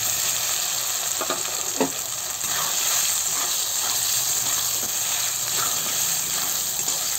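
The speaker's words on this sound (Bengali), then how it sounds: "এই তেলে সয়াবিন কটা ভেজে নেবো" Soaked soya chunks fry in hot oil left over from frying potatoes, giving a loud, steady, close hiss of sizzling with a few soft stirring knocks and no talking.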